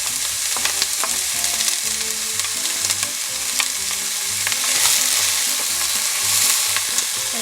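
Garlic, onions and Cajun shrimp frying in olive oil in a pan, a steady bright sizzle with occasional pops and stirring clatter, close and continuous, with no talking.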